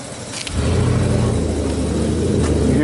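A car engine rumbles up and then holds a loud, steady low drone as the vehicle pulls away nearby. No one speaks.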